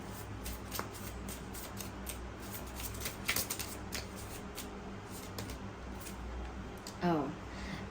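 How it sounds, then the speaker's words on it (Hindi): Tarot cards being shuffled by hand, a steady soft riffling patter running throughout at close range under a continuous background hum, with a brief sharper flick near the end. "ओके, मैं दोबारा शफल करती हूँ"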